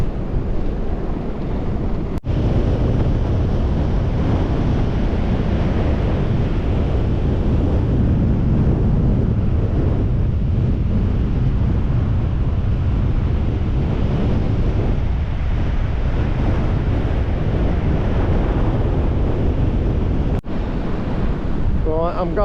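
Strong wind buffets the microphone on a very windy beach while surf and waves roll in, a loud continuous roar throughout with no clear talk.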